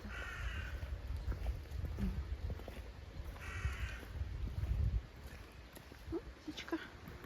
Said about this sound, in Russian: Смотри, какая птичка.